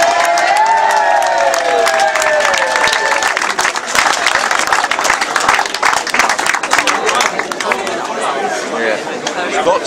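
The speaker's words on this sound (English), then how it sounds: "And once again, huge round of applause," Loud cheering opens with rising whoops and shouts, then gives way to steady close clapping and crowd chatter as applause continues at a speedway club presentation evening.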